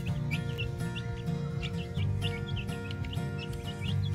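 Busy chorus of high, short chirps and peeps from a flock of young chicks, steady and continuous, with a low background rumble underneath.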